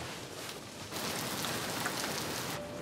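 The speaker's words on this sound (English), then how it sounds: "It's raining." Steady rain pours down in a dense, even hiss that grows a little louder after the first second and continues without a break, and no one speaks.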